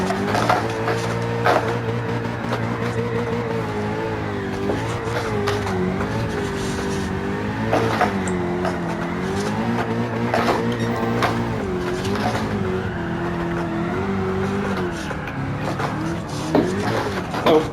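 A D1 drift car in the video game Gran Turismo 7 drives a lap, its engine droning and rising and falling with throttle, tires squealing through turns, loud and continuous throughout.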